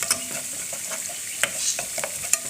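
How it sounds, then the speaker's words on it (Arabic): Garlic and coriander being stirred as they fry in a pan for moussaka, with a steady close sizzle broken by brisk scrapes and taps of the utensil. "نفضل نقلب فيها كده لغايه ما تحمر المنظر ده كده"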